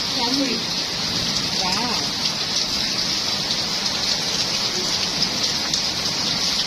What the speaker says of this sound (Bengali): বাইরে বৃষ্টি পড়ছে প্রচন্ড বৃষ্টি